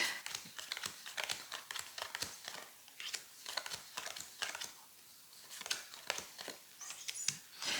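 Playing cards handled and drawn one by one from a deck during a tarot-style reading, giving soft, quick crinkly flicks and snaps in an irregular run, close and fairly quiet with no talking.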